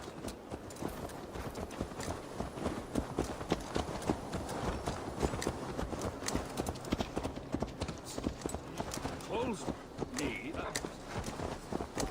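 Horse hooves clip-clop steadily in Assassin's Creed Valhalla, a rhythmic walking gait heard close alongside game ambience, with talk over it.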